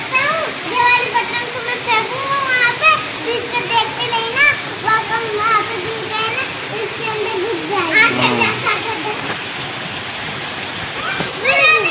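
Heavy rain pours down outside a home in a steady, loud hissing roar, while people talk over it almost continuously.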